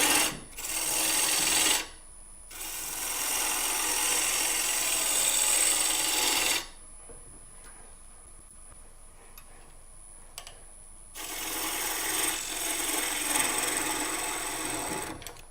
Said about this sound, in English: now it's just like hollowing out a bowl